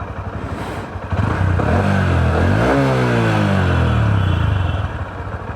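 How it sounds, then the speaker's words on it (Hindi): A Honda CB 125 Hornet motorcycle engine, just after its first service, idles nearby, then revs up loudly and settles back in a smooth rising-and-falling sweep, heard close and alone. "सर्विस होने के बाद बाइक का जो साउंड है वो थोड़ा ज़्यादा अच्छा लग रहा है अब"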